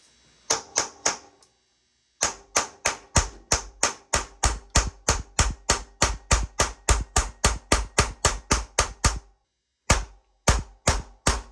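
Hammer blows strike a piece of aluminum set against a stuck swing arm bolt on a CR85 dirt bike, a long run of sharp, evenly spaced metallic whacks, loud and close, broken by two brief pauses.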